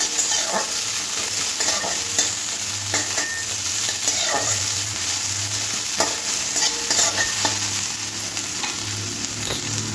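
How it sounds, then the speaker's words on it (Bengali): Sliced onion with dried chilli fries lightly in a pan, a constant close sizzle broken by regular scraping stirs of a spatula through the whole stretch. "এবার সমস্ত কিছু একটু হালকা করে পেঁয়াজটা ভাজতে হবে"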